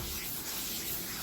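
A hand rubs across a rough, unfinished patch of car paint on an Austin Allegro, a steady, close, dry scratchy hiss with no pauses or talk.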